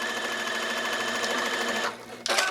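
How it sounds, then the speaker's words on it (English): A sewing machine runs steadily while stitching darts on a child's dress, a close, even mechanical whir that stops briefly near the end and then starts up again in a short burst. "And I like to start sewing the darts on the wider end."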